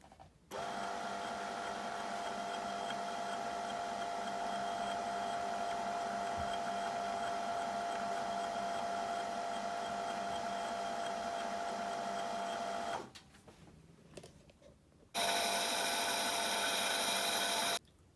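A Brother sewing machine's bobbin winder spins thread onto a bobbin with a steady, loud motorized whir for about thirteen seconds, cuts out briefly, then resumes with a higher-pitched hum.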